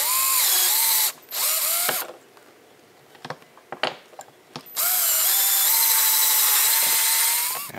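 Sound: drill boring hole in Delrin

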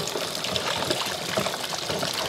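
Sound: santol fruit being washed in water

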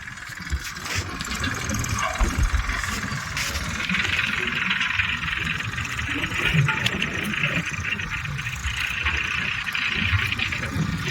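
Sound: tractor engine while unloading manure

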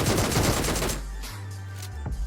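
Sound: pistol gunfire in PUBG Mobile video game

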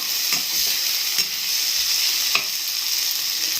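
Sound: chilies and spices frying in a pan for potato stew

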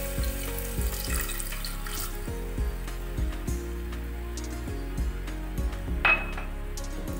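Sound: warm water poured into cooking pot

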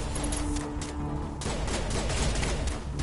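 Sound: gunfire in video game Mass Effect

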